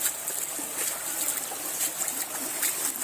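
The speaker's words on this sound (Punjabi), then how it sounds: "ਇਹ ਪਾਣੀ ਹੈ ਚੱਲਦਾ ਪਿਆ ਪਿੰਡ ਦਾ ਪਾਣੀ ਬਾਹਰ ਨਹੀਂ ਨਿਕਲਣਾ" Floodwater flowing along a canal-side road in a flooded Punjab village after heavy rain broke an embankment, a steady rushing hiss of moving water, continuous and moderately loud, with no voices.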